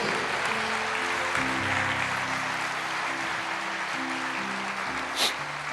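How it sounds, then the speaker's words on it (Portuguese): A church congregation claps continuously during a service, a full, even roar of applause with sustained keyboard chords playing underneath. "Eu só peço que aplauda ao Senhor."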